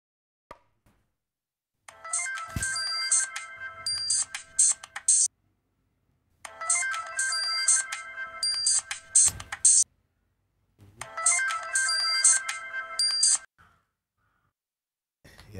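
A mobile phone ringtone plays three times in long repeating bursts separated by silent gaps, with faint sighs and small clicks in the background.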